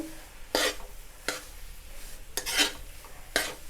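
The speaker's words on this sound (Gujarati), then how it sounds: "આવી રીતે લોટને સતત હલાવતા રહેવાનું છે" Flour roasting in ghee in a pan is stirred with a spoon in four separate scraping strokes, each a brief gritty swish against the pan bottom, close and fairly quiet.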